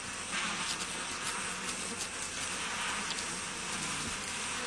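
Tiny stingless sweat bees buzz in a dense, continuous swarm hum, loud and close, a steady hiss-like drone with no pauses and no talking.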